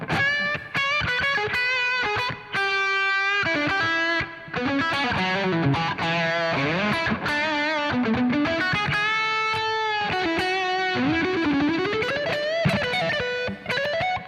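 An electric guitar played through a distortion effect rings out in sustained, crunchy chords and melodic bends, loud and continuous with only brief pauses between phrases.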